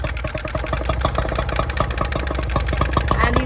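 A motorcycle engine pulled from a graveyard idles roughly up close, its uneven low chugging rising and falling as the rider works the clutch and throttle to keep it from stalling.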